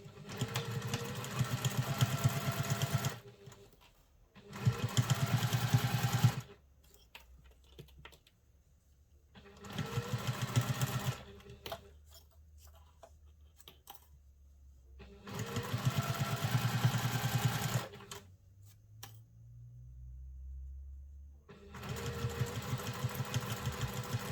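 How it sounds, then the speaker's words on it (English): A sewing machine top stitches a travel satchel at a long stitch length, running in five even bursts separated by pauses with faint handling clicks and the low hum of the idling motor. "I still have my machine on number 3 stitch length as I am top stitching"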